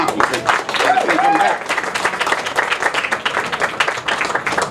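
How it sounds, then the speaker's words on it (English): Loud crowd applause at the 28th annual West Palm Beach GreenMarket, a dense wash of many hands clapping close by for the market sponsors, with a brief cheer or whistle rising out of it early on. "Clap for the sponsors."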